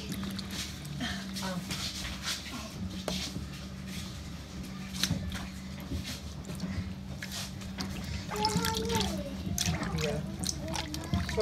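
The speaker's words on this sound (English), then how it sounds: "give them a good wash in the water" Fresh fruits such as oranges and watermelon, along with vegetables, get washed in water, with soft sloshing and splashing under almost continuous talking and a steady low hum.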